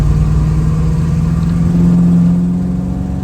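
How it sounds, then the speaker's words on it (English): A 1968 Chevrolet Camaro Z28 tribute accelerates, its engine loud and close with a strong low droning note that climbs and holds steady, then eases slightly near the end. "the car gets up and runs quite nicely, as you can tell here. We'll get it up to speed a little bit"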